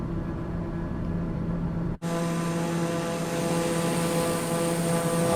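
A TBM 930 turboprop drones steadily inside Microsoft Flight Simulator 2024, a loud continuous engine tone with a brief cut partway, then the drone resumes at full level with no talk.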